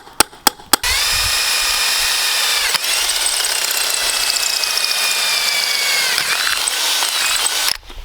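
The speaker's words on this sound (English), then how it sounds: "just so it's easier to drill a hole into it." A power drill whirs steadily for several seconds after a few sharp taps, drilling a hole for homemade dumbbells, its pitch dipping briefly midway before winding down at the end.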